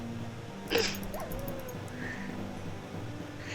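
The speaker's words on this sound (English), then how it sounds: "Look, it's a dog." A dog in a video game lets out a single brief bark or yip, then a faint whimper, heard over quiet game background sounds.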